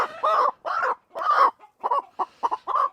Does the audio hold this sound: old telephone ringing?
no